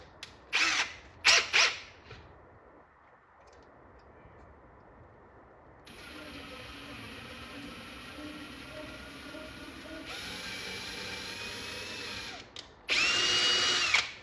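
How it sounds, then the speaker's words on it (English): A power drill whirs close by during work on a Paperboy arcade cabinet: a few short bursts, then a long steady high-pitched run that shifts tone, and one last brief burst. "Or if I could just do this with the drill."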